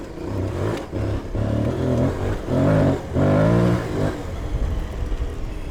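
Adventure motorcycle on a Motoz Tractionator Adventure rear tire riding hard off-road trails, engine revving up and easing off in repeated surges, loud and close with continuous rumble and wind.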